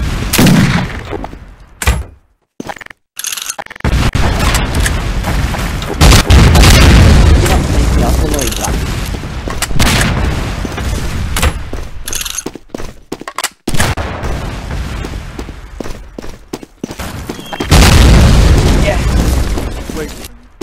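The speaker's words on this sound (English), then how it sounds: "And two more artillery shots." Artillery cannon shots in a video game boom repeatedly across the stretch, heavy bursts separated by short gaps, loud and close, while a voice talks over parts of it.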